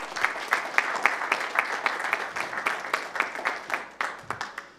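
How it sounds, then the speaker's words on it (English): Audience applause in a neighborhood council organization meeting greets the newly named fourth vice chair, a steady wash of clapping with distinct individual claps standing out, alone with no talk, tapering slightly toward the end. "Let's give her a round of applause."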